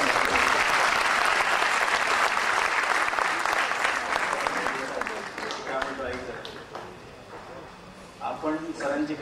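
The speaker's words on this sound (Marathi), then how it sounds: "टाळ्या वाजवून तुम्हाला एकदा एनकरेज करू का?" Loud, dense audience clapping at a gathering, cheering on a guest speaker, holding strong for several seconds before thinning out as speech takes over.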